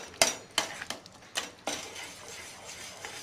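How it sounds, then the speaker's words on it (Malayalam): Spoon stirring sugar and cardamom powder into milk for kulfi in a pot, several sharp metallic clinks against the rim at uneven intervals, then softer scraping, close by. "നന്നായി മിക്സ് ചെയ്തുകൊണ്ടിരിക്കുക ഒരു 1 മിനിറ്റ്"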